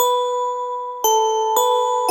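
A bright synth lead holds a steady sustained tone, then steps through a few new notes with crisp attacks, clean and alone.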